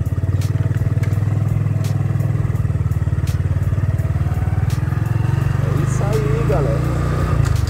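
A Honda Biz motorcycle idles with a loud, steady low engine putter close by as it is shifted from neutral into first gear, while people talk over it.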